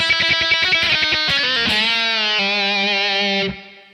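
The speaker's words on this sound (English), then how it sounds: "when you introduce the really fast picking" A rapid, heavily distorted electric guitar run, a blur of fast tremolo-picked notes that settles into a sustained bent note and then cuts off, loud and alone.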